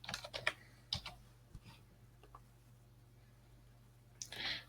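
Computer keyboard typing, a short burst of quick key clicks up close, a few scattered presses and one firmer keystroke like Enter, then a brief louder rustle at the end.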